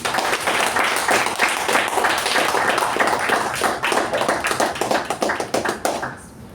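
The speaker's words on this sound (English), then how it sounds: "with a huge round of applause, welcome Toastmaster Saketh on the stage" Audience at a Toastmasters club meeting claps to welcome a speaker to the stage, a dense, steady roomful of applause that thins into scattered claps toward the end, with no one speaking over it.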